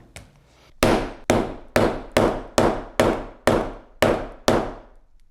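A hammer strikes a smartphone with no screen protector, shattering its screen and back glass: a slow, steady run of nine sharp, loud cracking blows, each ringing out briefly before the next, with no voices.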